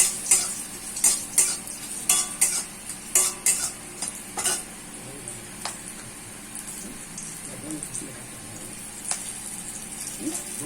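Bay leaf and green chilli sizzling in a hot pan, a steady soft frying hiss broken by repeated scraping clinks of a spoon stirring, close and fairly quiet with no talk.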